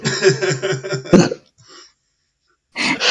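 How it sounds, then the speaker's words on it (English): A burst of harmonic, voice-like sound, then a sharp combined sneeze and cough, a brief snort, silence, and another loud burst at the end. "it was a sneeze and a cough at the same time"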